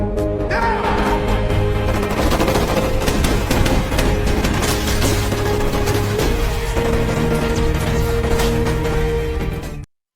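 Heavy gunfire fills a tense film shootout, a loud, continuous barrage of rapid shots with booming impacts layered over a dramatic score, ending abruptly.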